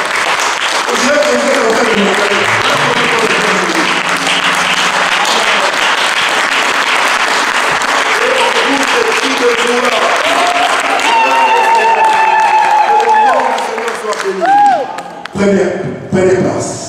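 A church congregation at a Sunday worship service applauds the Lord in loud, sustained clapping with voices and music mixed in. The applause then thins into scattered claps near the end.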